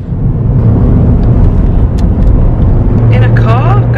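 A car drives along quiet roads, its steady engine and road rumble loud and close from inside the vehicle, with a few faint higher tones near the end and no talk.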